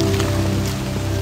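Steady rain falls throughout, a dense even hiss of drops on surfaces outdoors with no pauses.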